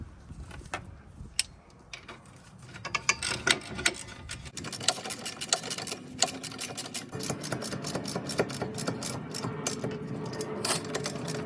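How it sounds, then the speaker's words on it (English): Strut bolts on a 2001–2006 Acura MDX being tightened with a ratchet, rapid clicking and metallic ticks at close range that grow denser and steadier after a few seconds. "We're tightening these bolts."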